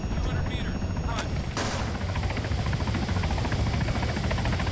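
A helicopter engine in the game Arma 3 roars steadily and loudly throughout, with dense low rotor thrum and a couple of brief sharp bursts early on.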